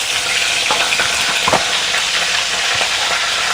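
Cumin and mustard seeds crackle and sizzle in hot oil as tempering for a Maharashtrian matki (moth bean) curry, a dense, steady fry with a few sharper pops rising near the middle, close and loud, no talking.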